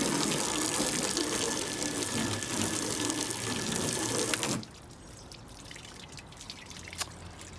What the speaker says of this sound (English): the water's definitely running off the paint